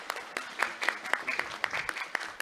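Applause from an audience at a staged play performance at Telangana Bhavan, a patchy scatter of claps that stays moderately loud, with some voices mixed in.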